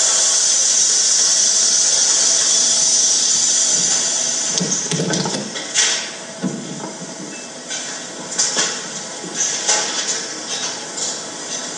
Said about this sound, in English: No, you need to flush.